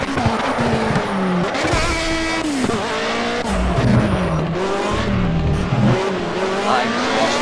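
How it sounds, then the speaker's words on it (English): A race car engine in the video game Project Cars roars continuously with rising and falling revs as it shifts gears, accompanied by occasional tire squeal at close range. "That exhaust sounds amazing."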